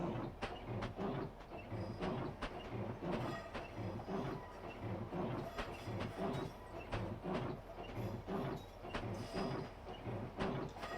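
A London-Faversham high speed train runs off the main line through a junction, giving a steady rolling rumble with rhythmic clickety-clack of wheels over rail joints, heard from inside the carriage.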